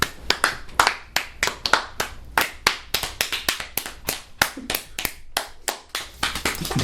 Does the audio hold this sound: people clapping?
yes